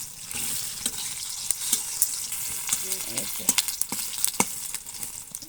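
Slices of eggplant sizzle in a pan of hot oil while making begun bharta, a steady hiss broken by frequent sharp pops and spits at irregular intervals.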